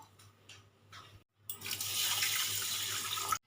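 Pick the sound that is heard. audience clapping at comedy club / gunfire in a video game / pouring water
pouring water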